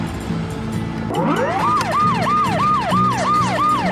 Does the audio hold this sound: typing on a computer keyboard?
no